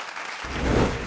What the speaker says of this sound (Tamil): ஒரு உற்சாகமான கைத்தட்டல்களோடு